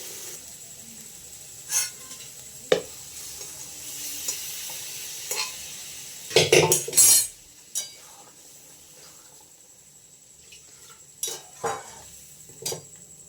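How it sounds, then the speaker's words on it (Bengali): Potatoes frying with spices in a pan, a steady sizzle under intermittent stirring scrapes and a few louder clanks of the utensil against the pan, close and fairly quiet. "আলু দিয়ে একটু কষিয়ে নিই"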